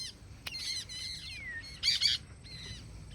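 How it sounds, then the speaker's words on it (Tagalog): Pet birds, including macaws, squawk and chirp while flying free outdoors in fine weather, with a few sharp calls and two louder bursts over a quiet background. "Dito muna pinalipad muna yung mga ibon."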